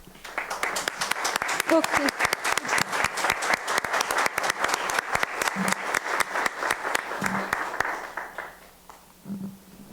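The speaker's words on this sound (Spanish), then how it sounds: "un gran aplauso para ella, por favor" A council session audience applauds a new member, sustained many-handed clapping that swells and then thins out toward the end, with brief talk mixed in.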